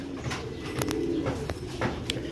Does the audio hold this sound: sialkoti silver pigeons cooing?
yes